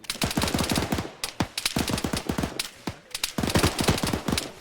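Rapid bursts of automatic rifle and machine-gun fire from the Arma 3 war game fill the scene with dense, overlapping rattling volleys. Brief gaps separate the bursts.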